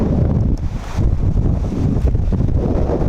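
Strong wind gusting by a lake in a rainstorm, buffeting roughly and loudly against the microphone as a constant low rumble with choppy surges.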